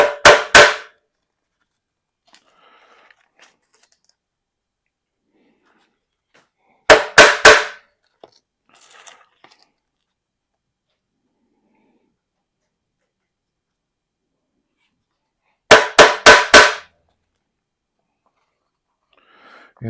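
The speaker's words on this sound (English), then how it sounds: "We're going to go ahead and get our holes punched. I just use a socket, line it up over the bolt hole." A hammer strikes a socket to punch bolt holes through a cardboard gasket for a 1926 antique car water pump, in three separate bursts of four or five quick, sharp, close blows with silence between.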